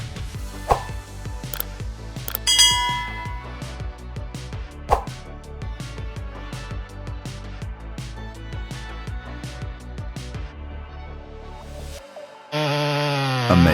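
A chainsaw cuts through a giant hardwood trunk on a hillside, its engine droning loud and close with rhythmic rasping strokes and pitch dips as the chain bites, ending in a sudden higher revving whine.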